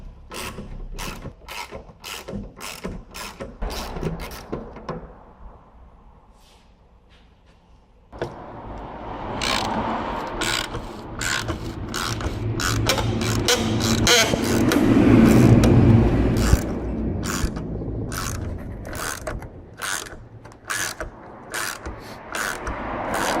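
Twist socket on a ratchet working a damaged, rounded bolt loose: rapid sharp ratchet clicks in bursts, a brief quiet pause, then a denser stretch of clicking with grinding metallic scraping, close and loud.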